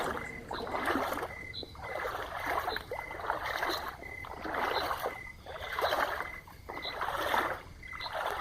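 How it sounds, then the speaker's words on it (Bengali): A small wooden boat is rowed along a misty river at night, the oars dipping and swishing in a steady rhythm of roughly one stroke per second, each splash rising and fading close by. "বিক্রম নৌকা নামালো নদীতে"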